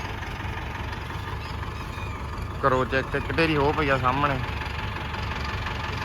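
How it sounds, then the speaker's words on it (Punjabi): A tractor engine idles steadily at a paddy harvest site, its low continuous rumble running throughout while someone talks briefly partway through. "ਉਹ ਖੜਾ ਆਪਣਾ ਟਰੈਕਟਰ ਚੱਲਦੀਆਂ ਲਾਈਟਾਂ"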